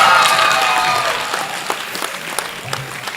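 A school debate competition audience applauds the announced winning team, loud dense clapping at first that thins into scattered individual claps and fades toward the end.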